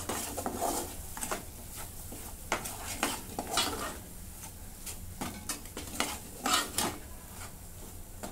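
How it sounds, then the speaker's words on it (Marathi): Scraping and stirring turmeric and homemade spice mix in a pan for egg curry, with repeated short metallic clinks and scrapes against a steady background hiss of gentle sizzling. "आता हे सगळं मिक्स करून घेते"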